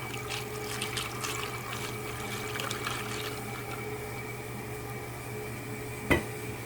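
Water trickles and splashes steadily into a jar of dill pickles at close range, a soft continuous pour with a brief sharper knock near the end.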